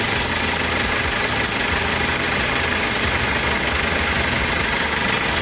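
A BMW N54 engine runs with a steady, loud, continuous drone and a faint mechanical clatter. It holds an even idle throughout with no voices.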